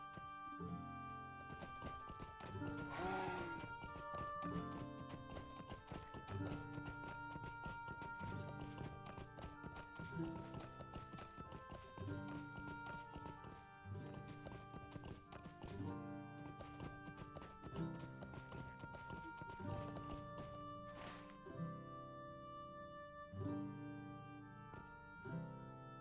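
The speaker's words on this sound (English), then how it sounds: "now we can ride. This looks like a suitable horse for my Bjorning." Horse hooves clip-clop steadily while riding in the online game LOTRO, an even trotting rhythm under a continuous bed of orchestral game music that plays throughout.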